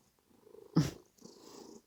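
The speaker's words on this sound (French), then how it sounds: "D'un chat qui ronronne." Cat purring close to the microphone, a soft low rumbling broken by a brief louder bump partway through, then continuing quietly.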